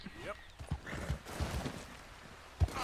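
Horse hooves in Red Dead Redemption 2 clop in an uneven sequence of soft thuds, fairly faint, with a brief whinny-like sound early on.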